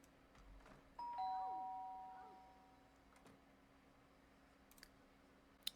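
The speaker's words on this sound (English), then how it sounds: "He's going to ring the doorbell." A doorbell chimes inside a house in The Sims 3, a clear electronic ding-dong tone that fades out slowly over a quiet background, followed by faint clicks and a sharp click at the end.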